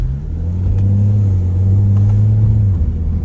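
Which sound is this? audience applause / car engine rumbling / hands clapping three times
car engine rumbling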